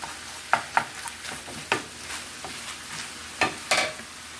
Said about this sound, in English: So we're gonna brown this up